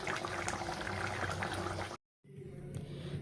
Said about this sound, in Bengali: আমার মাছের ঝোল টকবক করে ফুটছে